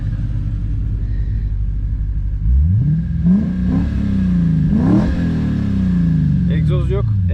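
A deep 5-litre naturally aspirated V8 in a Lexus IS-F idles and then revs up several times, rising and falling in pitch, loud and close, with a voice briefly heard near the end.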